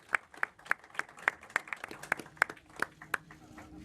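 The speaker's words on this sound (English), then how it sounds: "So we can applaud" Scattered audience clapping at a 2019 Australian Grand Prix pre-race Formula 1 press conference: a small group claps in a steady, fairly sparse rhythm of distinct sharp claps, moderately close, with faint murmuring underneath.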